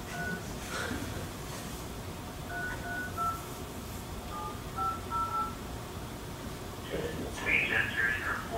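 Telephone keypad DTMF tones entering a phone number: a series of short, clear beeps spaced irregularly over a voice-menu background, with a voice present.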